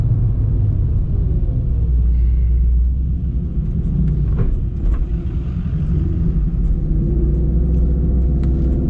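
A Ford Mustang S650 drag car on nitrous launches hard, a loud, dense low rumble of engine and exhaust that holds steady and close for several seconds.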